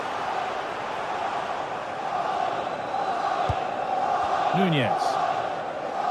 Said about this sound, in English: the crowd is certainly trying to motivate the players to get the equaliser